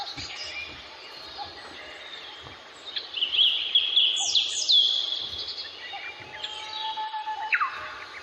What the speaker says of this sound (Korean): 또 새소리 좋죠